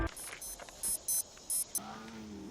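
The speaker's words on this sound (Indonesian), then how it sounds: "alarm di jam tangan Robert pun berbunyi" A wristwatch alarm in a film beeps in short repeated bursts, several evenly spaced high electronic bleeps, fairly faint over quiet background ambience.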